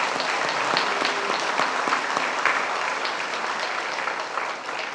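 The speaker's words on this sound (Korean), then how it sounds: "그런 의미에서 박수로 우리 하나님 감사합니다" A church congregation gives sustained applause at a 70th anniversary service for Yeosu Seonggwang Church, a steady dense wash of many hands clapping at even loudness throughout, with no one speaking over it.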